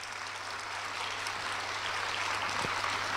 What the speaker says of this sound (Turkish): Çocuklar, alkışlayabilirsiniz